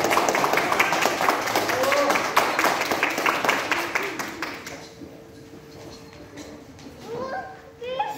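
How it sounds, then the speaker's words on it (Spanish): At a preschool graduation, a crowd claps briskly for several seconds amid children's chatter and voices, then the applause fades into quieter room noise with a few voices near the end. "Un fuerte aplauso para ellos, por favor, que se escuche."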